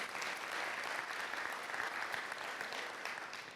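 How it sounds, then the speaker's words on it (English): An audience at a community gathering gives a brief, dense round of applause, steady and fairly distant, fading slightly at the end. "Give them all a round of applause."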